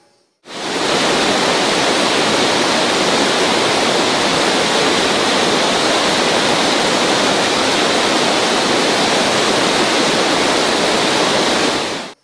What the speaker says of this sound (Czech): Podobně jako jsem si to já zkusil u nádherných vodopádů Vazachal.